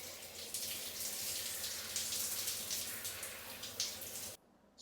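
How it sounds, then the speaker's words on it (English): Steady shower water streams and splashes during hair washing, a continuous hiss that stops abruptly near the end. "Washing my hair."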